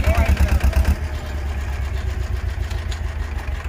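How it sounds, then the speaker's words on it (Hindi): Tractor engine running, either an Eicher 333 or a Sonalika 35, during a power test between tractors, heard as a loud, steady low-frequency diesel rumble with a heavier throb in the first second, then a continuous idle. "आगे जाकर बड़े ट्रैक्टर चल रहे हैं"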